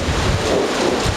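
Heavy rain and hail during a thunderstorm in Oslo, Norway, a loud, close, broadband roar with low rumbling and wind buffeting the microphone.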